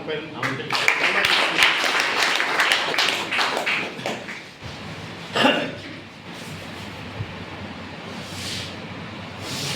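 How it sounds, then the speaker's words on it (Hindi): An audience at a motivational business seminar claps for a guest being introduced, a burst of dense clapping in the first few seconds that fades into room noise and scattered sounds, with voices in the background. "एक बार आपकी जोरदार तालियों के साथ"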